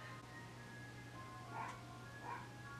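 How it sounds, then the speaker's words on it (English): A dog barks at an ice cream truck passing down a residential street, two muffled barks at a distance over a steady low indoor hum. "my dog is now barking at the ice cream truck."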